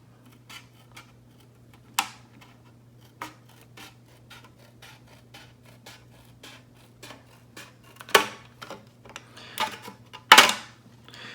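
Scissors trimming a clear Lexan RC car body for a ProLine 1967 Mustang: soft, close snips and crinkly plastic rustles at irregular intervals, with a few louder crisp cuts near the end over a steady low hum.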